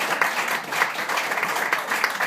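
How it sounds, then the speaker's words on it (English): A crowd at a Wild Bill reenactment show in Deadwood claps for the volunteer performers, a moderate, somewhat distant burst of mixed applause with uneven swells. "Let's get the volunteers out here and get a round of applause for them."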